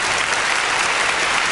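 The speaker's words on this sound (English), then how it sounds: "Let me give you a quick applause." Brief burst of studio applause on a radio show, dense and even clapping for under two seconds.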